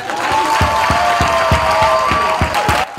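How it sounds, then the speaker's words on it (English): Applause for a law student award winner rises from a crowd, blended with a sustained tonal sound and a steady thumping beat at an even pace, moderately loud before cutting off near the end. "Can we have a big round of applause for Tete Karutis?"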